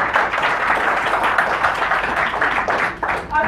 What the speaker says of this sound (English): I think that round of applause means that everybody's now ready for party